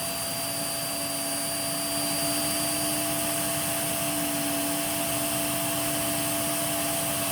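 An Ultra Big Shark vacuum cleaner runs in an airflow test, a loud, constant whining roar with steady high tones, rising slightly in level after a couple of seconds and holding without a break.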